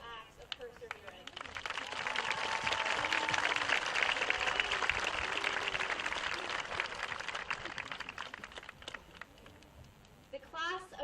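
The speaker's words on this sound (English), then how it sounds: "Please join me in a round of applause for these monumental acts of perseverance." Audience at a graduation ceremony bursting into applause, a swelling wash of clapping that peaks then gradually fades, heard from within a large crowd, with a voice speaking near the end.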